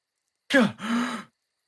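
A person gasps sharply, a quick breathy intake followed by a longer voiced exhale like a startled groan, close and alone against silence.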